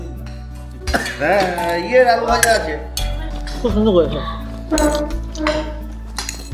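Metal cutlery clinks against plates at a restaurant meal of fried rice and chili chicken, a few light scattered taps and clatters mixed under steady close conversation.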